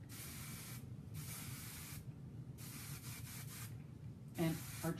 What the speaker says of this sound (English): And I'm going to go in with my dry texture spray.